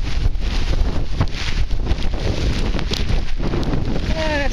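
Hurricane-force wind from Isaac blows hard straight into the microphone, producing a loud, continuous buffeting roar with surging gusts and no letup.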